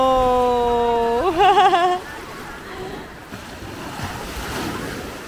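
Sea waves rolling onto a rocky white-sand beach at Puerto Galera, a steady wash of surf with wind noise on the microphone; a voice or animal-like call rises briefly near the start, then the waves continue alone.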